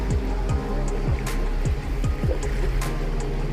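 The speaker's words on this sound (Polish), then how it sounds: "Ale fale zrobili znowu." Sea waves slap and wash around a kayak near a sea cave off Sardinia, with a steady close rush of water and repeated low swells, plus a few short sharp splashes.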